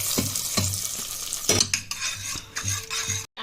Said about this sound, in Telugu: ఇందులో కొద్దిగా వేగిన తర్వాత పప్పులు వేసుకుందామండి